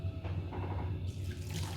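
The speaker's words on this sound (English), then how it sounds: "We're going to rinse it. And drain it." Tap water runs steadily into a sink as sago pearls are rinsed for a kuih, a close and fairly quiet splashing stream lasting under two seconds.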